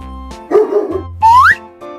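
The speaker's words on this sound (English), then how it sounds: "Dog." A dog gives a couple of short barks and yips, close and clear, mixed with a rising whistle-like tone and a low hum.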